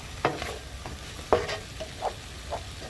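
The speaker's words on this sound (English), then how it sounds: "you go ahead and saute that up with the onions" Garlic and onions sauté in a pot for soup, a soft sizzle beneath a few distinct stirring scrapes and clacks of a utensil, close and quiet, no talking.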